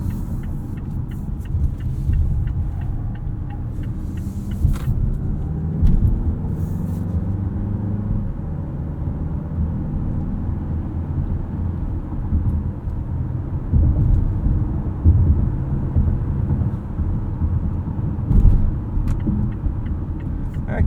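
A 2020 Mazda CX-5 Signature turbo AWD engine drones steadily near redline, a low throbbing rumble heard from inside the cabin that holds a constant pitch throughout.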